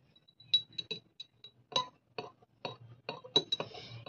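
A metal spoon taps and clinks inside a glass bottle while hair oil is stirred, giving about a dozen light, irregular clinks close by at low volume.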